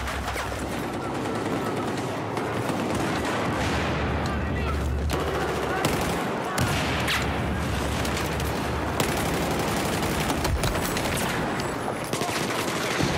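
Heavy gunfire and booming shots during an 8x8 online shooter match, loud and continuous with overlapping blasts and explosions filling the whole stretch, no pause in the barrage.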